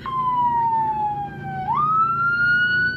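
A loud emergency siren wails nearby, its pitch sliding down slowly then jumping back up into a sustained high tone.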